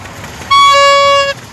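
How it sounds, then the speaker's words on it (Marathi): A single loud, bright toy horn blast at a village fair during Mahashivratri, held steady for nearly a second and sounding close by, then cut off. "रामाना भोंगा घेतलाय पा जत्रामध्ये वाजव रामा"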